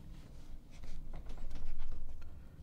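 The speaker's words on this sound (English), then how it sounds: "Cut off all those bits and pieces." A razor sharp knife trims ragged fibres from the end of a synthetic 4x4 winch rope, making close, dry scraping and sawing strokes in a rough, uneven rhythm.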